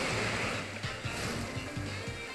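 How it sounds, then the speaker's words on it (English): Rippling water in the video game Pokemon Moon, a soft, quiet wash of lapping water with gentle repeating surges, heard on its own. "The rippling water."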